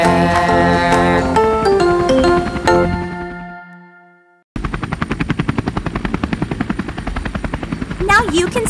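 Musical tones ring out and fade, then a close helicopter takes over with a rapid, steady rotor chop, loud and rhythmic, in a children's song.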